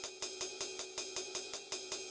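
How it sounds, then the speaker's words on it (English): A sequenced drum pattern plays a steady, quick pulse: ride cymbal hits and hi-hat notes land together on the beat, crisp and bright, repeating evenly with no voices. "I have the same ride cymbal pattern in sequencer 1."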